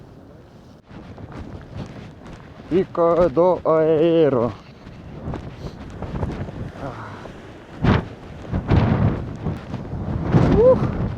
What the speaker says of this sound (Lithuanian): Vėjas pučia, rankų nejaučiu